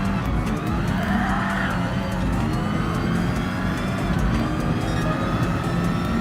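A modern Formula-style race car engine in Gran Turismo Sport wails at high speed in a continuous, loud, high-pitched drone with shifting tones, heard alone with no talk.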